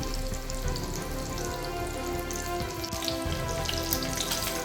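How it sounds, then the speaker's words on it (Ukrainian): Steady, dense sizzling of meat patties frying in a hot pan, continuous and close, with occasional crackles and pops throughout. "Ось смажаться наші котлетки."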